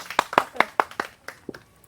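Group of people clapping for participants in a rural ping pong ball throwing challenge game, several short bursts of hand claps in an uneven rhythm that fade away toward the end.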